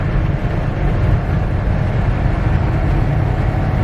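Wind roars steadily inside the cab of a lowered big rig truck cruising at 70 mph, a loud, constant low rumble and hiss with no let-up and no talking.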